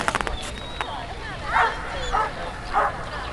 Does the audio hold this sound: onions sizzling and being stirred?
no